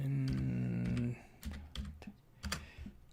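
Someone types on a computer keyboard: a handful of sharp, separate keystrokes with uneven gaps, heard close up after a steady tonal hum stops early on.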